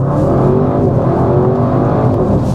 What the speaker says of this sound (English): I'm gonna give it full throttle now from 0, just because there's some space here